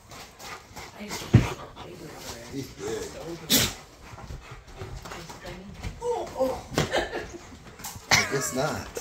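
Dogs pant and whimper close by, with short excited bursts and a voice talking over them.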